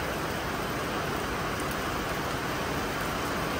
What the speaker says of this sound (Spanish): Estas son lluvias fuertes, mis amigos.